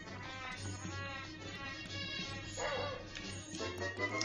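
A dog in the Link's Awakening video game gives a few yappy barks amid busy game music and effects, moderately loud and blended into the soundtrack.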